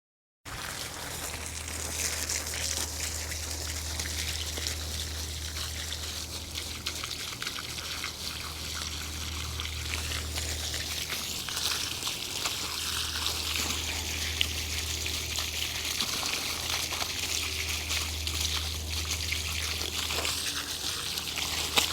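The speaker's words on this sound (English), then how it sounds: "now I want to wash the soil off of the roots" Water runs steadily over the roots of dug-up canna lilies as soil is washed off, a close, continuous pour and trickle with a low hum beneath and no talking.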